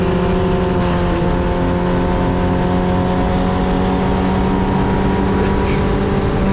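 Vintage Formula Vee race cars at Road America hum in a steady, continuous engine drone, fairly loud and unbroken, with the pack closely matched on the final lap and no clear individual pass.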